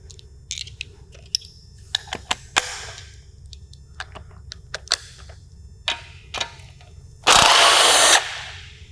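A ratchet clicks in short bursts while 10 mm and 13 mm bolts come off an LS engine's oil pump, with scattered metal ticks and taps, then a loud two-second whir of a power tool near the end.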